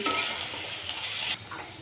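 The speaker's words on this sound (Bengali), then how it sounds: "পেঁয়াজ আমার ব্রাউন কালার করে ভাজা হয়ে গেছে" Onions sizzle loudly as they fry in a hot pan while a utensil stirs and scrapes, the sizzle dropping off abruptly near the end.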